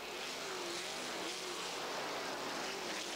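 Pack of 1985 sprint cars roaring back up to speed at a race restart at the Eastbay Winternationals, a dense continuous engine drone with a faint rising whine over the top, steady and somewhat distant.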